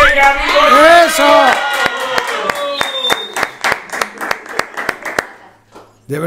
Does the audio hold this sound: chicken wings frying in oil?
no